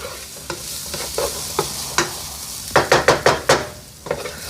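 Red peppers being stirred with sausage in a hot skillet: a constant sizzle with a spoon scraping and clacking against the pan, irregular at first, then a quick run of five rhythmic strokes, close and clear.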